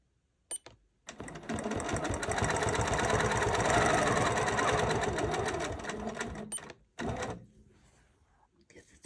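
A sewing machine quilts feather designs on a quilt top, running in a steady, close, loud whir for several seconds, stopping, then giving one short final burst.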